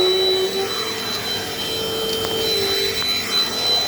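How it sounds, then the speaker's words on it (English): A Dirt Devil Dynamite Plus vacuum cleaner running close by with a steady whining motor drone and a faint intermittent rattle from something caught in the dirt bin, no talking. "I know it's making a little annoying noise"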